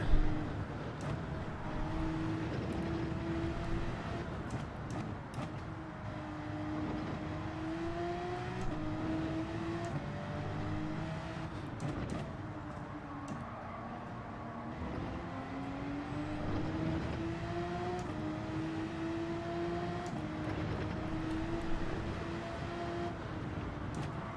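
A Porsche race car circles the Nordschleife in Gran Turismo, its engine whining through rising and falling gear pitches, with other cars droning nearby, steady and moderately loud throughout.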